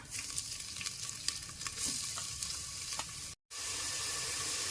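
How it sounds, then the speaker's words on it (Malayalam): Crushed shallots, ginger, garlic and green chili frying in coconut oil, a steady close sizzle with light stirring scrapes and a brief dropout near the end, no talking. "എണ്ണ ചൂടാകുമ്പോൾ ചെറിയ ഉള്ളി ഇഞ്ചി വെളുത്തുള്ളി പച്ചമുളക് ഇത്രയും ചതച്ചത്"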